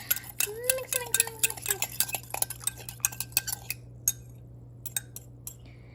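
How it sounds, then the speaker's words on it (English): A fork clinks and scrapes quickly against a bowl while mixing bread dough ingredients, a busy run of close metallic taps and stirring that thins to sparse clicks, over a low steady hum. "So I'm gonna mix it with a fork."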